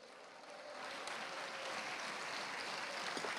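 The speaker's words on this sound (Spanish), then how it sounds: "¿Cuánto le tributa un aplauso?" A church congregation at a Spanish-language worship service breaks into steady, dense applause, faint and distant, sustained with no talking.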